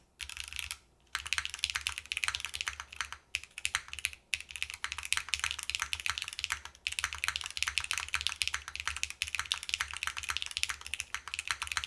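Fast typing on a custom-built ETAR87 mechanical keyboard, close and crisp, with rapid continuous keystrokes broken by a few brief pauses and some resonant key sounds.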